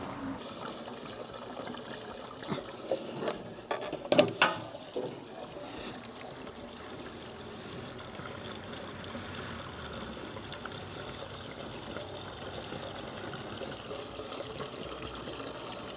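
Fuel pours from a can into the tank of a Pinzgauer, about 20 litres, as a steady trickling flow throughout, with a few brief knocks and clunks early on.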